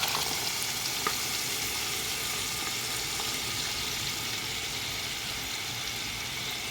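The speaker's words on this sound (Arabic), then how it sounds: "وكده بعد ما اتحمرت البصلايه ننزل عليها بالطماطم اللي احنا ضربناها في الخلاط" A steady, close sizzle of blended tomatoes frying in a hot pan with fried onions, continuous hissing crackle with a faint click, no talking.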